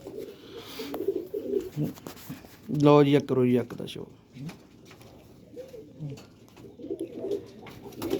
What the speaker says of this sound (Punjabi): ਇਹ ਅਲੀ ਵਾਲਾ ਕਬੂਤਰ ਹੈ